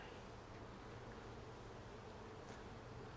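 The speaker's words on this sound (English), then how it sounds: "So one good way to shake bees off a fragile piece of comb like this" A steady, droning buzz of many bees around an open-air nest fills the air, constant and fairly faint, with no voices and no pauses.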